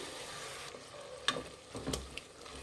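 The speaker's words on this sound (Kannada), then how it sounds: "ಒಂದು ಎರಡು ನಿಮಿಷ ಎಣ್ಣೆಯಲ್ಲಿ ಇದನ್ನು ಫ್ರೈ ಮಾಡಬೇಕಾಗತ್ತೆ" Ground masala sizzles steadily in hot oil in a pan while cooking plain pulao, a constant frying hiss broken by a few sharper spatters and stirring clicks.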